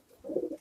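A pigeon coos in a loft among nesting birds, a short low throaty burble that swells and fades once, close by and alone.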